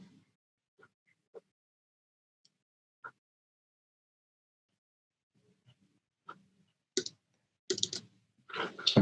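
Computer mouse clicks during a legal software demo, a few sparse, sharp taps spread over several seconds before louder, denser clicking and rustling near the end, with no talk.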